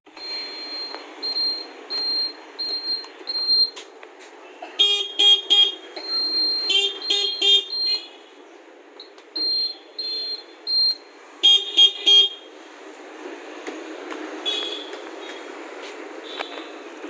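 A Honda Activa scooter horn beeps repeatedly in short bursts and longer blasts during a service check, with some rapid staccato honks, then quieter rustling at the end.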